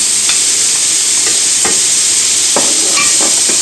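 Onion tipped into a pan of sizzling lardons and pumpkin pieces, a loud continuous frying hiss broken by a few scraping stirs of the spoon, close by and with no voices.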